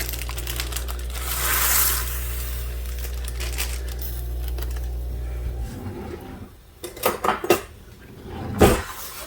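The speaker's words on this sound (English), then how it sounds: "I'm going to dump in the pasta." Dry pasta pours into a pot of boiling water with a rattling rush, followed by a few sharp clattering knocks against metal over a steady background hum.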